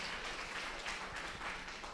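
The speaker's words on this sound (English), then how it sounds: "Give them a round of applause." A secondary school debate audience gives a faint but continuous round of applause, dense and even throughout, heard from a distance.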